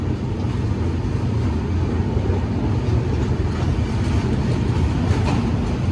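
The 12842 Coromandel Express, running from Chennai to Kolkata, crosses a rail bridge over a river with a loud, unbroken roar and rumble close by.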